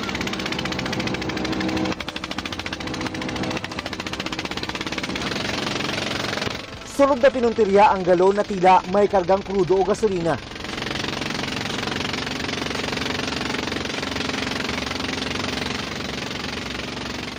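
A Chinese fishing boat's engine runs with a continuous, rough mid-pitched drone and knocking vibration, heard near and loud beneath a narrator's voice.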